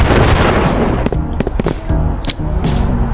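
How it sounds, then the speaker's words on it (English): Sticky dynamite blows up in the VR game Animal Company, a loud, dense blast of crackling noise that breaks into scattered bangs and rattling debris thumps, all close and overwhelming. "Okay, it's gonna explode."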